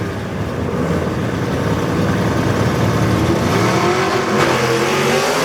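Drag race cars launch from the start line at a Mooresville drag strip, one a four-door Chevy II. The engines roar hard and loud, rising in pitch as they pull away together in a sustained, close, powerful blast.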